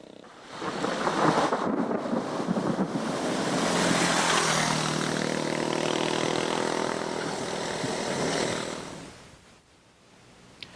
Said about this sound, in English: Many afternoon riders were caught in scattered thunderstorms